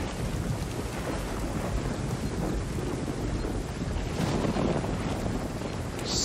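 Heavy rain with rolling thunder in the open world of Ghost Recon Wildlands, a steady dense wash of downpour and gusting wind with a deeper rumble swelling near the end, no voices over it.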